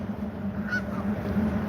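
Geese honk outdoors on a snowy city street, a brief nasal call or two rising over steady low background hum, moderately distant.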